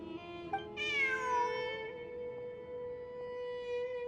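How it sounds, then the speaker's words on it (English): A cat meows in Genshin Impact, one long drawn-out, clear game meow that rises then slowly falls, heard alone over a faint ambient background. "Look, a cat."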